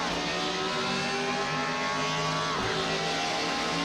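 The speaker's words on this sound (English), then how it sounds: "Really get that big V8 going again" Steady high-pitched engine drone of a BMW E36 with a Judd V8 in Assetto Corsa during a hill climb, held near constant with a brief dip and recovery, loud and continuous.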